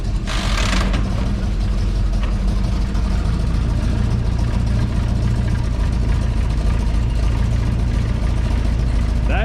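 A 1970 Ford Mustang Mach 1 engine runs just after its first start in forty years, a loud, steady, rough mechanical idle with rattling clatter, close by and continuous.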